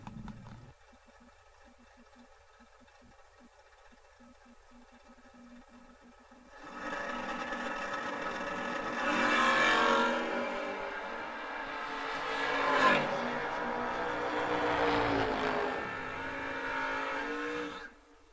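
Drag race cars, a Mopar and a Monza, launch side by side after a quiet start: loud engine roar builds from about a third of the way in, with revving surges and a peak as they pull away, no talk.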